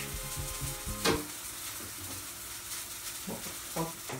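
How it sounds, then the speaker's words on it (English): Steady sizzling of a burger patty frying in a hot pan, a continuous crackling hiss with a couple of sharper pops, close by and no talking. "the burger is frying"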